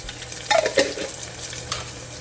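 Chicken coated in ginger garlic paste is stirred in a pot for a haleem, giving a short burst of scraping stir sounds over a soft sizzle, close and fairly quiet.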